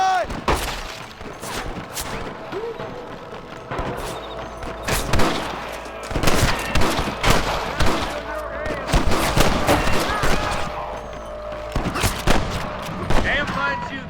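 Scattered gunshots ring out in the Western video game Red Dead Redemption, sharp irregular cracks near and far throughout a busy shootout, some overlapping in quick volleys.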